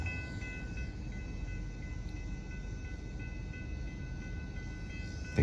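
A passing train known locally as the Ghost Train in the Keller and Hurst-Euless-Bedford area, a continuous distant rumbling roll with faint steady high tones, fairly quiet and unbroken for several seconds with no talk.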